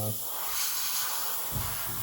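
Aerosol spray can hissing a natural metal finish onto a 1/48 scale plastic F-86 Sabre model kit, a steady close broadband hiss lasting throughout with a brief low thump near the end.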